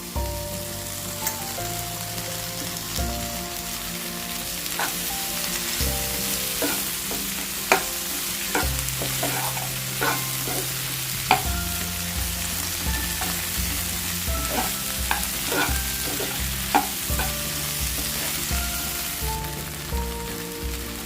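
Roasted okra frying in a pan, a steady crackling sizzle with repeated utensil scrapes and light clinks of stirring throughout, with faint background music.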